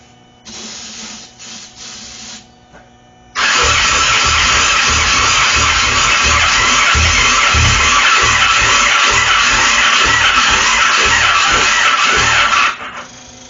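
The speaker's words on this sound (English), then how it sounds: "Well, that was enough of a pop that I think if I put the gas tank on it, it should be able to run." A small engine on a cheap cross-country bike cranks and sputters, then breaks into a loud, steady rough roar for about nine seconds before cutting off, close by with no talk.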